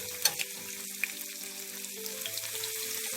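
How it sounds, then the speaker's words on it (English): Corned beef stir-fries in a hot pot for a Jamaican breakfast, a bright, even sizzle with a couple of sharp clicks near the start as it is stirred, close up and without talk. "I'm just going to stir fry them with a little bit to start it down"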